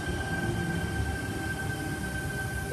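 A T-set train, T89, rumbles steadily nearby at Asquith in the rain with a continuous low roar and a faint high tonal whine running through, no voices.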